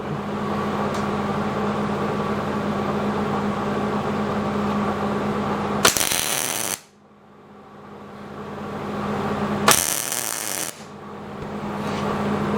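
Two short bursts of tack welding on twisted steel wrenches in a blacksmith's shop, each lasting under a second, close and bright against a steady background hum of shop machinery.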